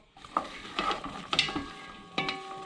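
Onions and other ingredients for a red snapper fish head soup are sautéed in a pot, with soft sizzling under several distinct scraping stirs of a utensil against the pot, close by and with no talk.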